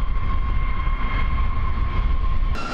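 Engines of a B-52 bomber built in 1960–1961 give a loud, steady, roaring drone with a sustained high whine that holds throughout, shifting briefly in pitch near the end, with no voices over it.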